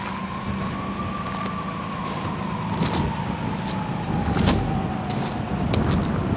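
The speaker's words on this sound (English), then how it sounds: "sirens from a fire truck or something" A fire truck siren wails steadily in the distance, its slowly rising and falling tone held over constant road and traffic noise, with no speech.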